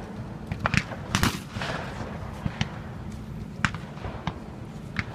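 A CZ shotgun fires at trick-shooting clay targets outdoors, giving several sharp, separate reports spaced irregularly over a few seconds, with some sounding more distant than others.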